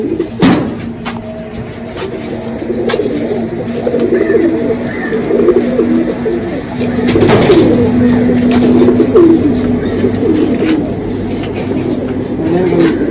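Pigeons in a loft keep up a low, steady cooing, fairly loud and close, with occasional wing flutters and handling noises layered over the drone.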